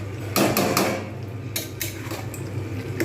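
A jackfruit and prawn curry is stirred in a pan, with several scraping, clattering strokes of a spoon against the metal over a low background hum.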